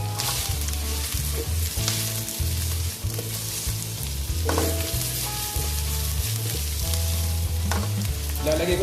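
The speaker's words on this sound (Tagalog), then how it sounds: "Gigisa ko muna yung mga sibuyas, bawang," Onions, garlic and ginger sizzle and crackle steadily in hot oil while being sautéed for fresh dilis dishes, with occasional stirring scrapes over a continuous frying hiss; no one speaks.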